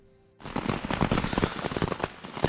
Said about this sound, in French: Et finalement, la pluie est tombée pendant la nuit.